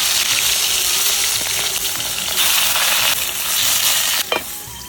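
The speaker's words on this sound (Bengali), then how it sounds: "কড়াই গরম হয়ে গেছে আর পাতুরির জন্য তেল দিয়ে দেবো এক এক করে এখন দিয়ে দেবো একটা করে" Small fish paturi wrapped in tender gourd leaves sizzle loudly and steadily in hot oil in a heated wok. A brief clatter from the cookware comes near the end, and there is no talk.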